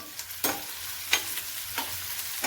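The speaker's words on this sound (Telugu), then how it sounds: "కొన్ని ఆనియన్స్ వేసుకోవాలి కొంచెం కరివేపాకు కొన్ని పచ్చిమిర్చి వేసుకుని మంచిగా ఫ్రై చేసుకోవాలి" Sliced onions, curry leaves and green chillies fry in hot oil with a soft continuous sizzle, broken by four sharp scraping stirs spaced about half a second apart, close and clear.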